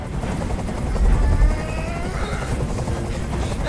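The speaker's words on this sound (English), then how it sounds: "Tell that helicopter to get out of here!" A helicopter hovering in the video game Detroit Become Human, its rotor thumping as a continuous loud drone that swells briefly in the middle, with speech underneath.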